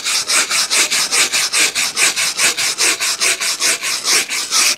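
A wire brush scrubs hard along a timber log in quick, regular back-and-forth strokes, loud and close, a harsh rasping that repeats about twenty times.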